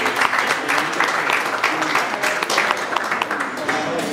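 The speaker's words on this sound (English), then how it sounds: "Fellow teachers, let's first clap for that by now." An audience of teachers at a WordCamp conference breaking into applause, a steady wash of clapping with voices mixed in, fairly loud and continuous.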